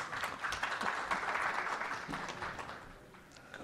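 An audience at an Urdu poetry mushaira in Dallas applauds, steady dense clapping from many hands that holds throughout and fades slightly toward the end.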